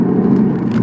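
A Peugeot 308 GTi accelerating on a twisty road, its engine a steady, close drone that fills the short moment without any talk over it.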